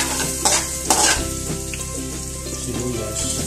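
Garlic frying in a pan at a backyard cookout, a steady close sizzle broken by a few louder scrapes and clatters of stirring, with no talking.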